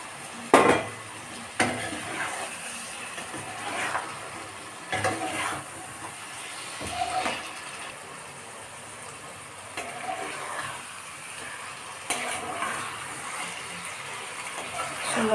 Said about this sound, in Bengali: এর মধ্যে আমি দিয়ে দেবো মাংসটাকে দিয়ে ভালো করে আরও কষবো।